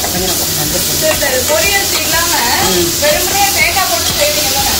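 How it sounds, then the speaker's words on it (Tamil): Drumstick leaves sizzle and crackle in a hot pan as they are stirred, with scraping and frying hiss running continuously at a fairly loud, close level while voices talk over it. "இப்போ வந்து நான் அந்த கீரை போட்டுட்டேன். நம்ம நல்லா கிண்டி விட்டுருவோம்."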